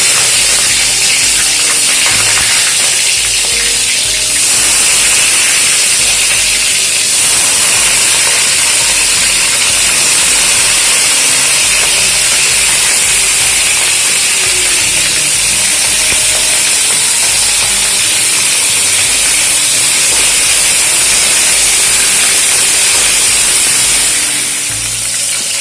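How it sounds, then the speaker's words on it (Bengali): Cauliflower florets fry in hot oil in a wok, a loud continuous hiss and sizzle that holds steady for the whole stretch with no talking. "ফুলকপিগুলো কিন্তু খুব ভালোভাবে ভাজা হয়ে গেছে"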